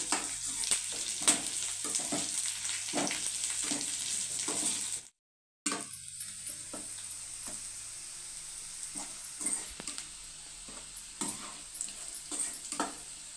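Curry leaves and onions fry in a pan with a soft, continuous sizzle and scattered crackles and stirring scrapes, fairly quiet and close, broken by a brief silent gap; no voices.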